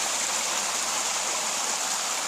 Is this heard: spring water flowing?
yes